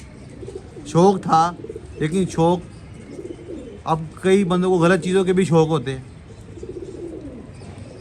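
Pigeons kept for pigeon flying coo softly in low, rolling bursts, most audible in the pauses while someone talks at length over them.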